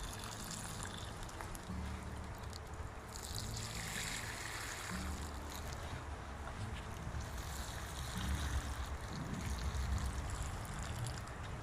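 Water trickles and splashes gently in a light, uneven stream onto seed modules, pausing and resuming, close by with a quiet background.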